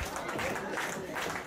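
A wrestling crowd at a Limitless Wrestling intergender match cheers and applauds in a dense, continuous wash of noise, with a commentator talking over it.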